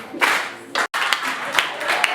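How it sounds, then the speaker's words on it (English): Audience applause as the MC takes the mic at a formal event, a broad wash of clapping from many hands, moderately loud, with a brief break partway through before it carries on. "You can clap for him as he takes the mic."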